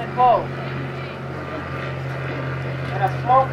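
A Helio Courier STOL airplane performs slow-flight porpoise manoeuvres at a demonstration, its propeller engine droning steadily at moderate distance with swells in loudness, and someone talks over it.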